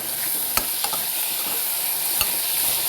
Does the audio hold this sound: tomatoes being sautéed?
yes